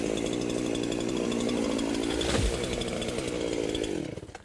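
Chainsaw making the back cut to fell a tree, a close, loud, steady buzzing roar that dips briefly midway and then winds down at the end.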